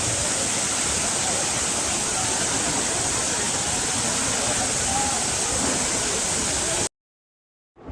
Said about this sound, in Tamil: இந்த அருவி இருக்குது சூப்பரான ஒரு அருவி பார்த்திங்க